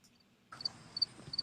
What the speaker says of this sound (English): I love the crickets, though.